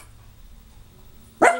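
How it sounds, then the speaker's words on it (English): A dog gives a single sharp, loud bark right at the end after near silence. "It gets interrupted by dogs."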